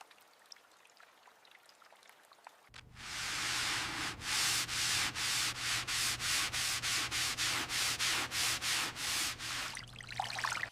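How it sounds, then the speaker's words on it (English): Polishing compound is rubbed by hand over black car body paint on a 1918 Dodge Brothers touring car. Close, rhythmic swishing strokes repeat steadily, about two per second, after a quiet start, with a faint low hum beneath. "This gentle motion ensures the compound works evenly, breaking down imperfections."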